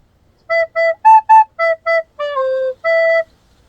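A recorder plays a short melody from a song, nine clear, breathy notes, mostly even and steady with a couple of longer held tones near the end, close and alone.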